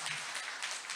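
A short, faint patter of audience applause at a Korean political party seminar marking a Korean War anniversary, heard as soft, even clapping from a distance.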